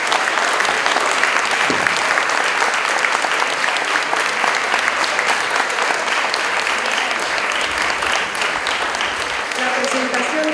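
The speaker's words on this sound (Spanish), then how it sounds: "empezar con un aplauso sostenido por el logro." Sustained applause from an audience at a book presentation event, dense and even, holds loud and close for the whole stretch with a faint murmur of voices underneath.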